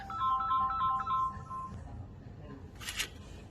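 A phone ringtone plays a repeating bright electronic melody for about a second and a half, then stops, followed by a short burst of hiss and quiet room noise.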